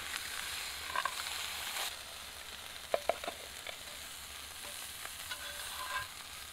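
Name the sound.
stir fry sizzling in one pot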